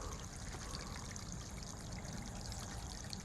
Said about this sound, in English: I'm going to open this little valve up and run the water through it